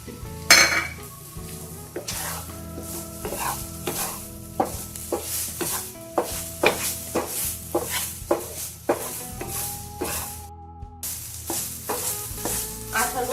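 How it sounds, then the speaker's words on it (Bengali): A carrot laddu mixture with dry fruits is stirred in a pan, with repeated close scraping and clinking of a spoon against the metal over a soft sizzle and light background music. "আমি ড্রাই ফ্রুটগুলো দিয়ে দিব দিয়ে ভালো করে নেড়ে চেড়ে মিশিয়ে দিব"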